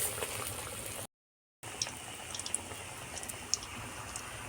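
Banana flower chops coated in gram flour batter hiss and crackle steadily in hot oil, a close, continuous frying sizzle with small pops, cut by a brief silent gap.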